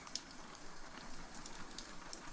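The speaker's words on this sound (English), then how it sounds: "The sound of the rain is changing as the wind shifts, and it becomes a softer and more mist-like tapping" Rain falls and taps steadily outside a house, a soft continuous patter with scattered brighter drop hits, while wind moves around the chimneys and eaves; no voices.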